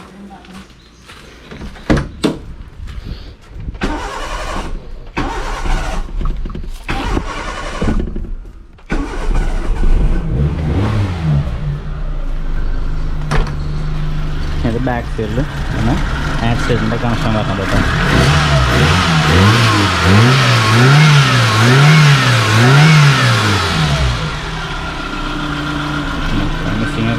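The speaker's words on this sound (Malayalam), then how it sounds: "സ്മൂത്ത് എൻജിനാണ്, സ്മോക്കിങ് കാര്യങ്ങളൊന്നുമില്ല, നല്ലൊരു എൻജിനാണ് കേട്ടോ." A 1996 Maruti Zen's petrol engine is cold-started and revved repeatedly. It rises and falls in wavering surges over a steady idle, close and loud, while someone talks over it.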